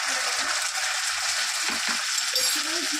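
Four pieces of fish frying in a pan with onion, ginger-cumin paste and ginger-chilli paste, giving a continuous bright sizzle at close range, with occasional soft clinks and stirring knocks underneath.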